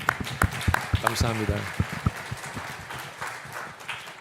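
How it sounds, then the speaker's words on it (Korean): Congregation applause at a Korean church's Sunday service in Austin fills several seconds with scattered, close clapping, mixed with a voice speaking over it. "우리 그분들을 위해서 누군지 모르지만 한번 큰 박수 한번 드립시다"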